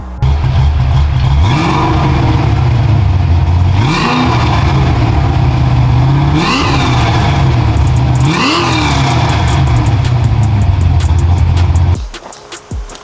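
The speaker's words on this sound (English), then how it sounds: "I'll drop y'all a clip of my cousin's Fox body right here, 302 power." A Ford Fox body with a 302 Windsor V8 revs repeatedly, sharp blips climbing and falling three times over a throaty rumble, loud and near, before cutting off abruptly at the end.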